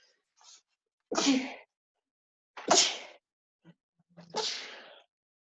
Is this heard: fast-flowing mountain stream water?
no